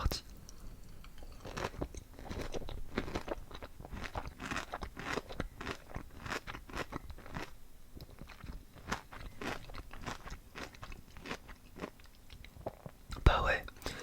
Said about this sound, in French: Je vais essayer de manger le milieu de l'ananas